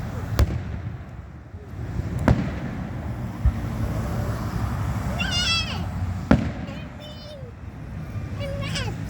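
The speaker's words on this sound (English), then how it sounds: "It's called Fireworks, right?" Holiday fireworks pop in several sharp, separate bangs at irregular intervals, with a cat meowing and children talking in between.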